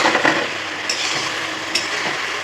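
Naliya ghitto, knotted dough pieces, sautéing lightly in a pan, with a soft continuous frying hiss and a few faint clinks of stirring close by.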